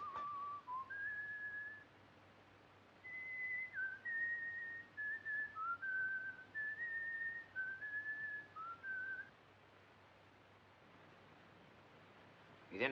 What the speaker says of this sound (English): That tune you are whistling, sir, it is an English tune, isn't it?